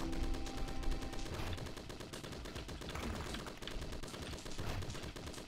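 Rapid automatic turret fire in the WoodPunk roguelike bullet-hell game, a dense, loud stream of repeated gunshots rattling continuously for several seconds with no pauses.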